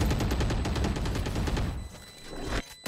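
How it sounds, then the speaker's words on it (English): Rapid gunfire in a tactical shooter match, a dense burst of shots for most of the clip that thins out and stops near the end. "I'll start shooting."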